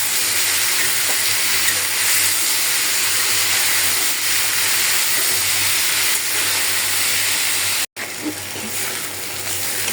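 Bitter gourd (karela) sliced and frying in a pan with turmeric, green chilli and salt gives a steady, loud, hissing sizzle that holds for the whole stretch, broken only by a brief cut near the end.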